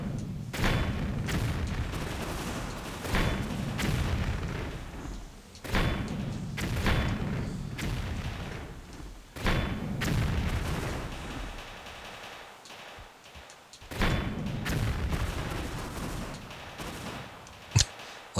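Objects bursting apart in Tomb Raider Remastered: repeated heavy thuds and booms in clusters, loud and close, with short gaps between the bursts.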